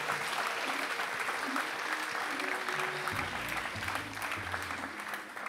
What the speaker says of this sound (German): Applaus bitte für